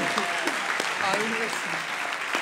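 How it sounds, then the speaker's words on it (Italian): Steady clapping from a book fair audience fills the clip, with voices talking and calling out over the applause. "Oh, un applauso."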